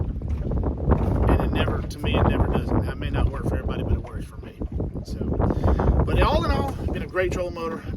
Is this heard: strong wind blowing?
yes